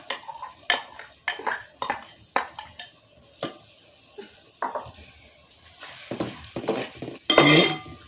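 A spatula stirs a quail egg mixture in a pan, making intermittent scraping and clattering strokes against the metal under a faint sizzle, ending in a louder burst of frying.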